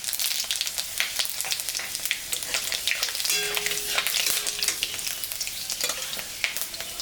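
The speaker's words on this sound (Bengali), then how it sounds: "মাছ ভাজা তেলের উপরে শুকনো লঙ্কা পাঁচফোড়ন সম্বরা দিলাম" Dried red chilies and panch phoron spluttering in oil left from frying fish, a close crackling sizzle with bursts of sharp pops and stirring, no talking.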